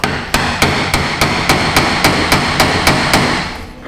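Steel hammer blows ring out against a chisel on a 2016 GMC Sierra fuel pump job, about a dozen loud, close, evenly spaced strikes in a steady rhythm.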